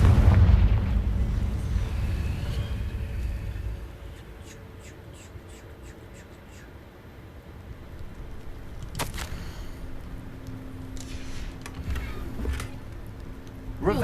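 The Confringo fire spell cast in the action game Hogwarts Legacy: a deep, rumbling blast at the start that fades out, then sharp impact cracks later, with game ambience and a voice talking at times.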